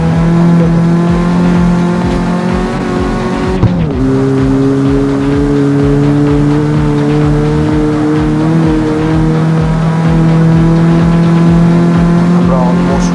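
A car engine drones steadily in the CarX Street driving game, a loud sustained hum with a brief gear-change dip partway through, then it settles back into an even cruising note.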